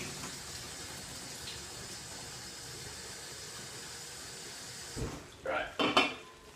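Boiled pasta water is poured off from a pot, a steady rushing hiss of draining liquid that carries on throughout, ending in a few clanks and knocks of the pot.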